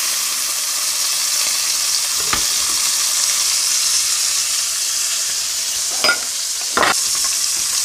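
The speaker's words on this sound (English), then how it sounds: "we're going to put it down skin first into this fat" Grouper fillet laid skin-side down into hot fat in a Bodine pot gives a strong steady sizzle and hiss with no voices, broken by a few sharp pops and crackles near the end.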